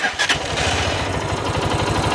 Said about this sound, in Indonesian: Dan ketika mesin dinyalain